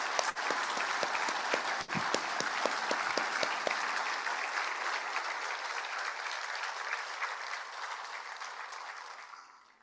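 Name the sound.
applause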